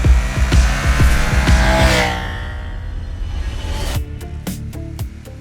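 A Ducati Panigale Tricolore motorcycle accelerates hard, rising to a loud, near, high-pitched engine scream that winds up and then falls away, followed by sharp bursts from quick gear changes.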